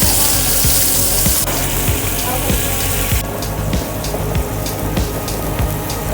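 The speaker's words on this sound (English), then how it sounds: "we're gonna let the salmon simmer over lemon juice and cooking wine for about 30 seconds" Salmon simmering in lemon juice and cooking wine in a pan with capers, a loud dense bubbling sizzle, close, with faint intermittent taps and no clear talk.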